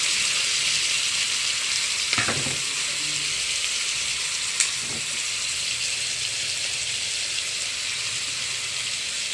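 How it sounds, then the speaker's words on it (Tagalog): Garlic, onion and pork for adobo fry in a pan with a loud, steady sizzle, broken by a couple of stirring scrapes and a brief clink, close and continuous with no talking. "Pinapainit ko yung bawang, tapos sibuyas, saka karne, nilunod ko na."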